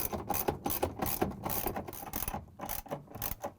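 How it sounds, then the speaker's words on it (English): Rapid clicking of a 3/8 socket wrench ratcheting out bolts on a GE washer drain pump, a dense, close, steady metallic chatter with short pauses and no talking. "I'm going to use this 3/8 socket wrench and I'm going to take out the 3 bolts so we can free the pump"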